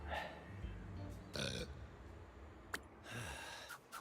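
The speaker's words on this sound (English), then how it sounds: "There's nothing like a burp" Burps and gassy grunts from a character in the hospital-management video game Two Point Hospital, several short bursts separated by pauses, with some mumbled voice sounds.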